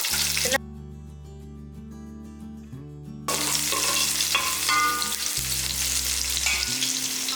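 Small onions and spices fry in a pan for a festival-style mutton curry, giving a loud, continuous close sizzle with stirring over a steady tonal background.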